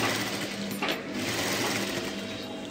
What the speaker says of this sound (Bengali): চাপ সেলাই দিচ্ছি, যে চাপ সেলাইটা কিন্তু ঘুরিয়েই হবে